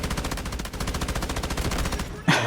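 Sustained automatic fire from an M249 machine gun in the shooter game Delta Force, a loud rapid stream of evenly spaced shots close up, ending in a sharper burst near the end.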